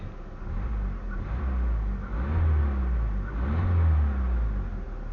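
A Proton Wira with a 4G91 engine and manual gearbox runs close by, its low engine rumble swelling in two rev rises and falls, with no talk over it.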